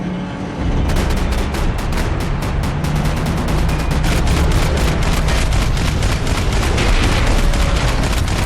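Sustained automatic gunfire from a Max Payne 3 firefight on PC, loud, dense rapid bursts of shots running almost continuously after a brief quiet start.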